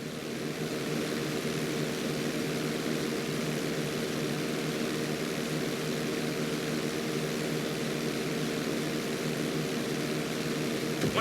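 A propeller plane takes off during flight school in the video game GTA V, its engine drone steady and loud throughout, with no talk heard.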